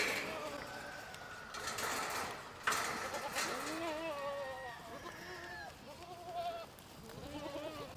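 Several goats bleat repeatedly in wavering, overlapping calls close by, with a person talking and calling out between them.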